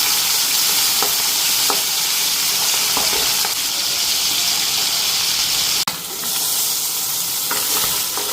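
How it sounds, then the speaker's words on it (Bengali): Fish frying in fully heated oil, a loud continuous sizzle and hiss with a few faint crackles and a brief clatter partway through. "মাছগুলি কড়কড়া করে ভেজে নিলাম।"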